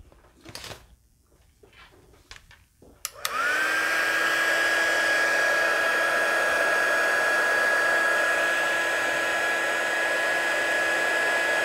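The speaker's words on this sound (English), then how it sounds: "we're going to need to heat this up with the heat tool" Heat tool switched on after some quiet handling noise, then blowing hot air in a loud steady whirring drone to melt embossing powder for paper crafting.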